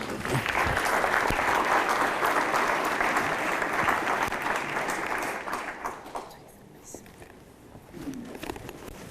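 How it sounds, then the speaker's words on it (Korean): A conference forum audience applauds with dense, sustained clapping for several seconds, then it fades out, with a few voices murmuring afterward. "큰 박수로 모시겠습니다"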